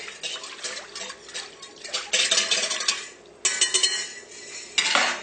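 A whisk works a chocolate cake mixture in a pot over heat, bursts of clattering metal scraping and tapping against the sides, loud and close, with no talking.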